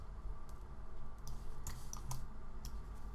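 Computer keyboard keys are pressed in a few sharp, scattered clicks over a steady low background hum during 3D modeling work, close and fairly faint, with no talk.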